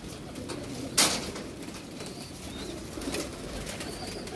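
Baby pigeons coo softly and low beneath a constant hiss of background noise, with one sharp, brief burst early on.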